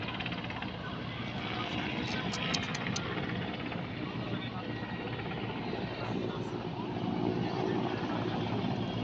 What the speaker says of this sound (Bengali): হেলিকপ্টার ওইটা, ওই যে ওইটা আবার আসতেছে